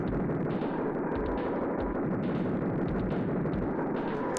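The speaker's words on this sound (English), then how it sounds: "Grenade launcher." Explosions from grenade launcher fire in the SNES game Super Smash TV make a dense, continuous barrage of booms and blasts. The roar is loud and constant, with no talk.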